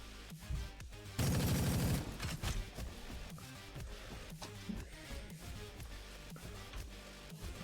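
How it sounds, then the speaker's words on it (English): Rapid bursts from dual light machine guns in the game RoboQuest, with one loud sustained burst of fire early on followed by scattered quieter shots and impacts over a busy game soundscape. "Dual light machine guns."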